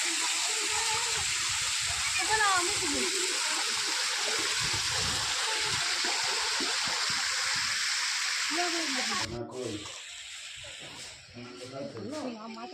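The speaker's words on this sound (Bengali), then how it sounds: "একদম ঝর্ণার কাছে আছি, ঝর্ণার কাছে দাঁড়িয়ে আছি।" A park waterfall rushes in a steady, close, broadband hiss while voices talk over it; the roar drops off sharply near the end.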